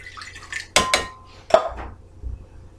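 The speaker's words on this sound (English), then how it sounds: "The cold water to my mixing bowl." Cold water goes into a mixing bowl while bokashi bran is being prepared, heard as a few close clinks and knocks of dishware with a short splash, no voices.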